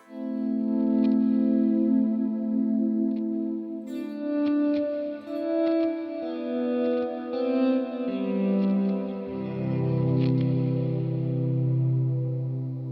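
Guitar played through an FM9 effects processor with only the wet effected signal: sustained chorused, echoing notes and chords ringing continuously, swelling and shifting pitch toward the end, with no voices.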